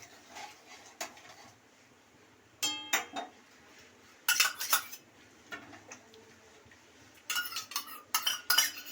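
A spoon stirs sour yogurt into chana masala in a metal pot, giving quiet, intermittent bursts of scraping and clinking against the sides, with no talking.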